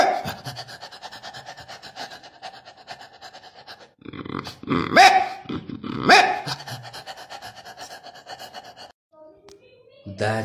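A human voice imitates a tired dog, with breathy panting and rasping sounds in bursts, louder near the middle and trailing off into brief fainter noises at the end.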